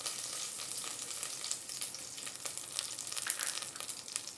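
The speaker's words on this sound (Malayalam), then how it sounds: "കറിവേപ്പില നന്നായിട്ട് പൊട്ടിയിട്ടുണ്ട്." Curry leaves and mustard seeds splutter in hot oil while tempering for chamanthi puttu, a steady close crackling sizzle with fine pops and no talking.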